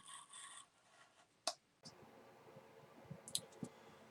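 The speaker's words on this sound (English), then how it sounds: "So I put a sharpened blade here in my X-Acto. So what I want to do here now is we're going to cut our opening." An X-Acto knife with a freshly sharpened blade cutting door openings in a brass model tower: faint, close scraping and rasping with a few sharp clicks, quiet and intermittent.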